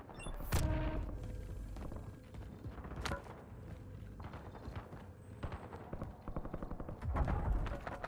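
Sniper and other gunfire in a Warzone Resurgence match: faint, scattered shots and cracks with a louder blast near the start, footsteps and game effects around them, no voices.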